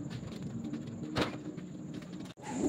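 Racing pigeons coo softly inside a covered training box, low muffled calls repeating under faint background hiss with a brief rustle or knock.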